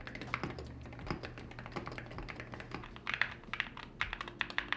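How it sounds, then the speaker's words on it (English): Someone types on a keyboard fitted with Wooting switches and blank keycaps, producing a quiet, steady run of close clicky keystrokes with short bursts of faster taps. "The Wooting switches don't sound all that good, so the keycaps aren't really done justice."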